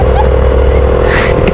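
A motorcycle engine runs loud and close, a steady rough drone with a brief rise near the end, with no talk.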